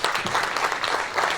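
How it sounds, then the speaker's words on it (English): An audience at a tourism symposium breaks into a short burst of dense, steady applause, loud and close, with no voices over it. "Can we give him another round of applause?"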